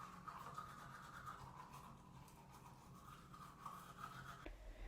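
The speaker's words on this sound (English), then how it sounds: "all I have is a shaky clip of me brushing my teeth" A toothbrush scrubs teeth in steady, continuous back-and-forth strokes, close and fairly quiet, with no talking, before the brushing stops abruptly near the end.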